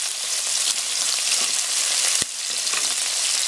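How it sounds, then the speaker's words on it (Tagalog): Thin slices of pork fry in a hot pan with a loud, steady, close sizzle and crackle, broken once by a sharp tap near the middle; no one speaks. "lutuin natin itong pork. I-fry natin"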